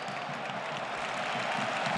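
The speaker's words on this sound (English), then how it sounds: "And a ripple of applause each time that Pedri ticks along another pass." Stadium crowd at a Real Madrid versus Barcelona Copa del Rey final in Seville, a steady wash of applause and crowd noise holding at an even level throughout.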